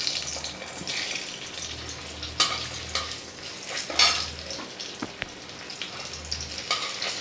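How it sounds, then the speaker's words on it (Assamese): Two potatoes fry in a wok, giving a steady sizzle with occasional stirring scrapes and clatters close by. "এতিয়া মই প্ৰথমতে আলু 2 পিচ ভাজি ল'ম"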